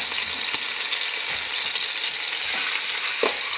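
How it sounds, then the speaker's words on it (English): Vegetables frying in hot grease in a pot while making vegetable soup give a steady, close sizzling hiss with scattered small crackles and pops throughout. "My grease looks like it's hot enough. Let's put them in the pot."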